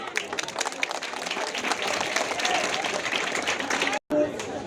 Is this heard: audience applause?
yes